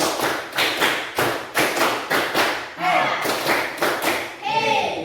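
Indonesian classroom students perform a counting clap game, loud unison claps in quick bursts of grouped beats, the whole class close and together, with brief children's voices and laughter between patterns.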